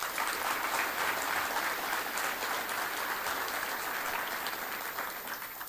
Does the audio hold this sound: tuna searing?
no